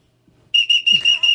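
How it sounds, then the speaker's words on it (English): After a moment of near silence, a shrill whistle is blown close by in four or five loud, steady bursts with short breaks between them. "Well, what is the significance of the whistle?"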